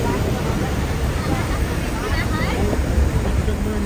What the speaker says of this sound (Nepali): च्यासर खोलाको पानी